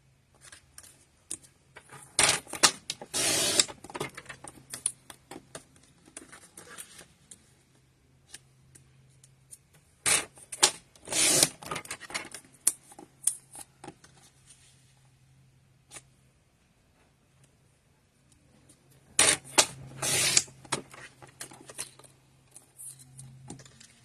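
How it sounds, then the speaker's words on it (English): Strips of cardstock sliced on a paper trimmer for a stamped card: three separate bursts of quick scraping, clicking blade strokes, close and crisp, separated by quiet pauses with a low steady hum. "right on my trimmer, so I was sure to cut them all 1/2-inch"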